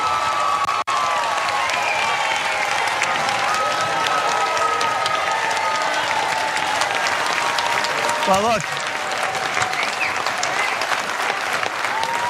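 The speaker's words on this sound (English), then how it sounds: "look, you got the loudest applause here." Loud, sustained applause from a town hall audience in Bakersfield, dense clapping that fills the room and holds steady, with a brief spoken word near the start.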